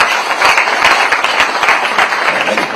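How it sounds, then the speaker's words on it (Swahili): Audience applause at a public address, dense continuous clapping from a crowd filling the whole short stretch, fairly loud and close, with no voices over it. "Makofi."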